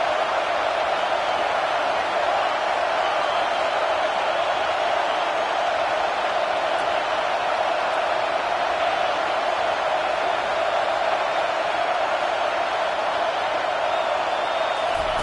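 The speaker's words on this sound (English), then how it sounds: "And here comes the noise. This crowd is trying to inspire this defense to make a big red zone stop." Steady, dense stadium crowd roar in the video game NCAA 25 during a red zone defensive stand, loud and continuous throughout with no distinct cheers or breaks.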